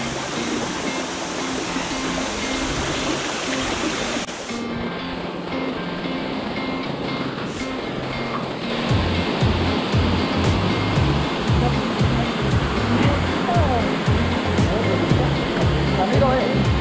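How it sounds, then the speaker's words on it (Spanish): A waterfall over 100 metres high roars loudly and continuously, a dense wash of falling water that swells slightly louder partway through, in the Güejar River canyon, Meta, Colombia. "Qué cascadota."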